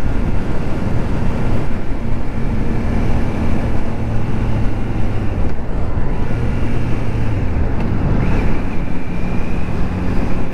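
A Triumph Trident 660 motorcycle ridden on the road, engine humming steadily at moderate revs beneath heavy wind rush, loud and continuous with no talk.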